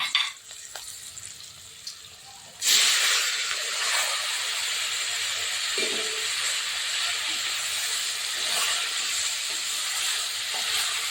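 Raw plantain pieces dropped into a hot pan burst into a loud, sudden sizzle that settles into a steady, continuous frying hiss, close up and with no voices over it.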